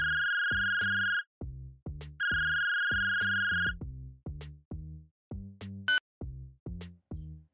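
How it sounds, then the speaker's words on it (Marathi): A mobile phone rings in a repeating electronic ringtone pattern: two long sustained tonal bursts alternating with quick rhythmic plucked-style notes, loud and close with no talking. "मग वाजणाऱ्या फोनकडे पाहिलं"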